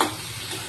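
Green peas frying in a pan over a raised gas flame give a short, steady burst of crackling sizzle, close and continuous.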